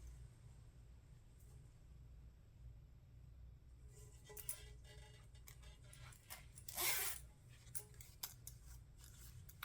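Zipper teeth on a crossbody bag zipper being adjusted by hand, heard as a few soft clicks and scrapes followed by a brief louder rasp, then scattered light ticks over a low steady hum.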